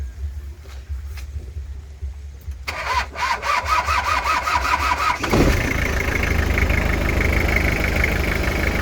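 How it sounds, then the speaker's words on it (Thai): A Toyota Mighty-X pickup with a 2500 engine cranks over with a rapid starter whir, then catches and settles into a loud, steady rumbling idle close by. "ติดเครื่องไหมครับ"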